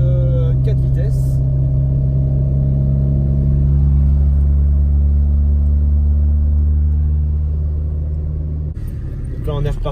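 Inside a 1988 Mini Austin with a four-speed gearbox, the engine rumbles low, steady and loud as the car drives along, the note shifting slightly before easing off near the end, with brief bursts of other sound at the start and finish.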